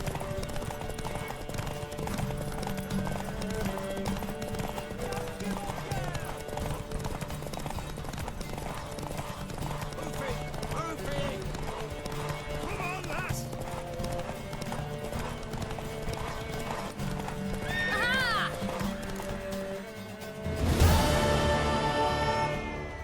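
Hooves clip-clop steadily under game music in The Witcher 3, then a horse whinnies loudly near the end.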